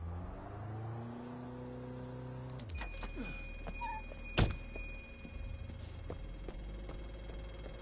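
A car engine in an Xbox 360 video game revs up with rising tones, then cuts off into clunks, a sharp thump and a steady background hum, with no talking.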